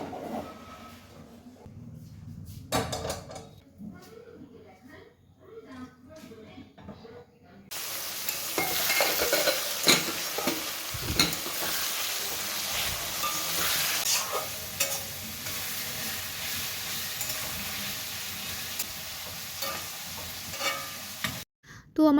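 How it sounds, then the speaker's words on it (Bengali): Spice masala being stirred and fried in a pan for a chicken dish, starting with quiet scraping and clinks, then a loud, steady sizzle with a spatula scraping and knocking against the pan, cutting off near the end. "তো আমার মশলা কষানো হয়ে গেছে"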